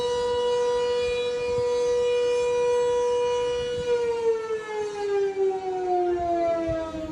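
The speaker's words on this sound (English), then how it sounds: "Those sirens could be heard from the famed Blue Lagoon Spa" Civil defense sirens wailing in Iceland during a volcano eruption, a steady rising tone held for several seconds before sliding slowly downward, distant and moderately loud, with faint background rumble.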